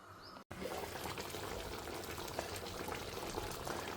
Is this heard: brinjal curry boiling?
yes